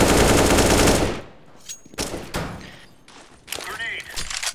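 Sustained rapid gunfire from the shooter game CS:GO roars loud for about a second, then trails into scattered sharp shots, thuds and a shattering burst as a voice talks over the fight.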